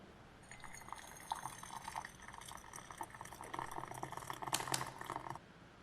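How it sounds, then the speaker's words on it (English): Hot water poured into a jar or cup, a soft, close trickle that builds and gurgles for about five seconds before stopping abruptly. "Next, we have hot water being poured into a jar or a cup."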